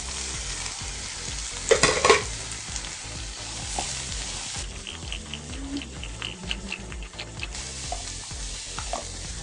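Carrots and curry leaves stir-fried in a pan for Kerala-style carrot mezhukkupuratti: a steady close sizzle with scraping stirring throughout and a louder clattering burst near the start.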